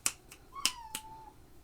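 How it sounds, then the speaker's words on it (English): A single cat meow, a short rising-falling cry, close by, mixed with a few sharp clicks or taps. "if you hear a cat in the background, that's my cat, Mango."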